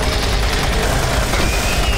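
Continuous gunfire in the shooter game Doom 3 BFG Edition, a dense steady barrage of rapid shots with no pauses, loud and unbroken throughout the short stretch.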